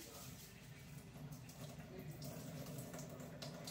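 Tap water runs steadily over rice being rinsed in a sink, making a constant close splashing rush with no pauses.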